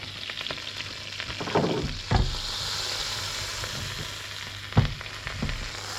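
Butter heating in a hot pan for a winter casserole, a soft steady hiss and sizzle with a few louder clunks and bumps of the pan, close and moderate in level with no talking.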